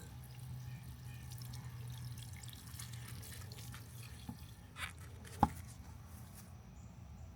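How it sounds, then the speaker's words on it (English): Water is poured onto a container garden plant, soaking into the soil with a soft, quiet trickle and a few faint drips and light taps near the end. "I'm gonna give it a nice soak."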